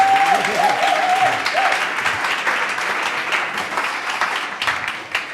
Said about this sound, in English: Big round of applause, please, for Sergio and his panel.